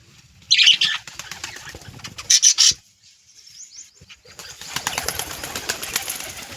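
A pigeon's wings clap and flutter in two short, loud bursts close by, followed by softer rustling and faint chirps, with no talking.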